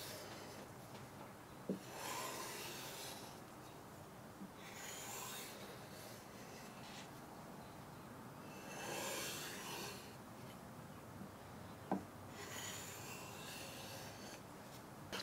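Amazon Basics kitchen knife being stropped on a squeegee, several slow rasping strokes in a steady back-and-forth rhythm, close and quiet with faint clicks between passes.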